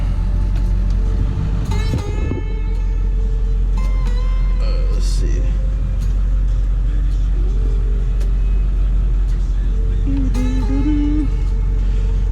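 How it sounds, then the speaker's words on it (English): A 2001 Ford F350 Harley-Davidson pickup rumbles steadily as it is turned around, its engine drone constant and close, with a few brief spoken words and light clunks. "So let's go ahead and flip this truck around."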